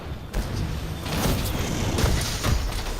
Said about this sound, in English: let's check some charge slashes from this weapon